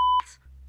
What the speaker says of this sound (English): Obscurities were covered by another beep.